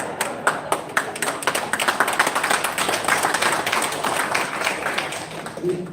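At an engineers' association inauguration ceremony in Riau, a seated crowd pats one another's backs, producing a dense run of soft, irregular thumps and claps over several seconds, with scattered voices mixed in.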